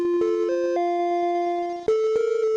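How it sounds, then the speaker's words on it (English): Crash jingle of a 1995 Power Macintosh 5200: a short electronic melody of sustained tones stepping upward in pitch, then a sudden jump to a new held note, clear and alone. "That sound is the crash sound of the Power Macintosh 5200 that was released back in 1995."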